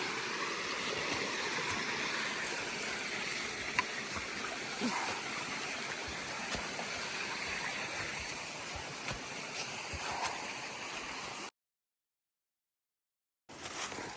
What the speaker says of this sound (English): You can hear a waterfall that's like over this way